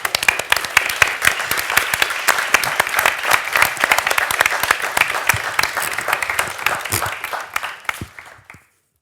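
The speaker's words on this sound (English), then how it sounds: "And I think we should actually applaud that" Loud, dense applause from an audience thanking the show and its panelists at a visual art production event, sustained for several seconds before tapering and stopping abruptly.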